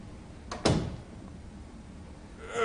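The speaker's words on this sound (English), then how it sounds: "Okay, let me shut the door." An interior door swings shut with a single sharp thud near the start, followed by a quiet room and a faint rustle at the end.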